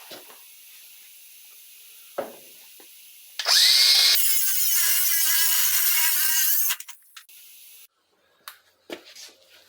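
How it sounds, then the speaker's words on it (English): A power tool cuts loudly through a metal shock bracket on an Avro Speedster build, a harsh grinding whine lasting about three seconds, with quieter clicks and handling noises before and after. "Alright, so I'm just going to cut this bracket off."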